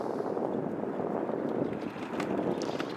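Stiff wind on a cold December day of about 42 degrees at a boat launch, buffeting steadily as a broad rushing roar with gusty rumble, close and constant with no speech.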